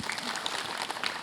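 A short burst of dense clapping from an audience, steady and fairly loud, briefly filling the room.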